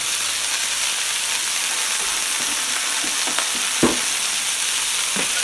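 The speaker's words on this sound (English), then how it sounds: "You want to get those capers in your pan, get that cooked in there, let them open up a little bit." Capers fry in a pan for chicken piccata, giving a steady close sizzle and hiss with a few faint pops and scrapes scattered through it.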